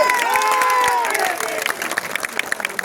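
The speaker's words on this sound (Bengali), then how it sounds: "তাদের জন্য একটা বিগ করতালি।" Crowd applause at a factory tournament prize-giving for the champion team. A sustained musical tone fades early, then clapping grows into a busy, uneven patter from many hands.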